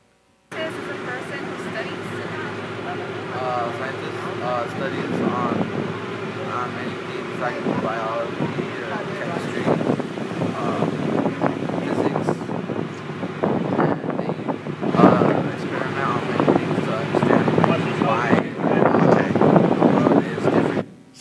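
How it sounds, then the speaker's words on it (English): Steady wind buffets the microphone aboard a boat at sea, a continuous broadband rush with gusty swells throughout, while a voice talks over it. "It's a windy day on the boat today"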